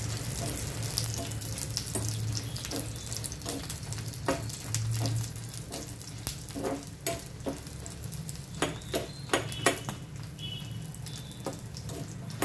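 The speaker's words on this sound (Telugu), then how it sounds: "దూరగా వేయించుకోవాలి, మాడిపోనివ్వద్దు." Spices and sesame seeds frying in a pan, a steady close sizzle with scattered sharp crackles and stirring scrapes that grow busier toward the end.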